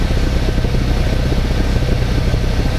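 Fiat 500 engine idling roughly and misfiring, picked up close at the exhaust: a loud, steady low rumble with an uneven, stumbling pulse running through it and no voices.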